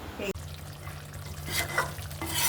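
A yogurt-marinated dish is stirred and slowly sautéed in a wok, soft scraping and gentle sizzling heard close and fairly quiet, with a low background hum.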